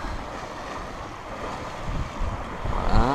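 Sea waves wash and slosh around a sailboat cruising under sail in about 12 knots of wind off the Mediterranean coast, a steady broadband rush with wind buffeting the microphone and a few louder surges near the end.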